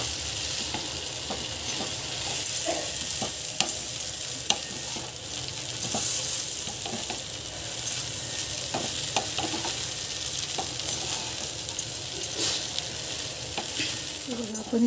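Kanda poha with onion stirred in a pan, a loud constant sizzle under repeated spatula scrapes and clinks against the metal over a long stretch, close by, with occasional faint voices.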